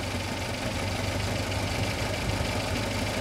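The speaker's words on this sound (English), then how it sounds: "we can go back to the accelerated idle speed, which is approximately 200 RPM faster than the slow idle" Engine running steadily at accelerated fast idle, about 200 RPM above slow idle and just under 800 RPM, a constant, even drone with no change in pitch or loudness throughout.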